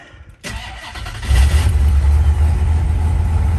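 A fuel-injected 451 big block V8 in a 1958 Plymouth Fury cranks briefly, then catches and settles into a loud, deep, rumbling idle with a noticeable cam lope, up close.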